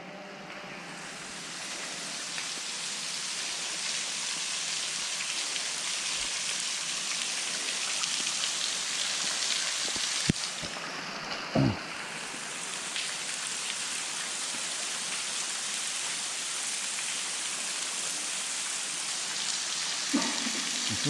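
Water falls like rain inside a cave, a steady hiss of drips and patter spattering on surfaces, with a few louder splashes and knocks standing out now and then and no speech.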